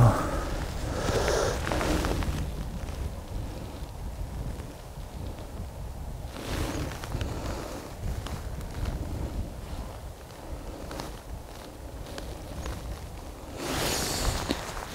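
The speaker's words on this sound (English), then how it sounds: "This wind is getting stronger." Strong, gusting wind blows outdoors in open countryside during an air rifle rabbit hunt, buffeting the microphone with a continuous broadband roar that swells in louder bursts and rumbles low throughout, with no talking.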